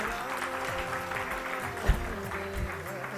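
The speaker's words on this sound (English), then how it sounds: "I request all the devotees to please stay back and clap and encourage all the" Audience clapping at a book marathon closing ceremony, a steady dense patter of many hands filling a hall, with a single louder clap standing out briefly near the middle.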